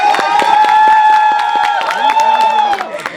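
College orientation day audience claps and shouts loudly, sharp scattered claps under sustained cheering and whooping voices, close and energetic before tapering off.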